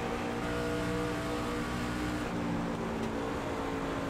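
A race car engine in a racing video game holds a steady, loud drone while it accelerates. The tone stays harmonic throughout and nobody speaks over it.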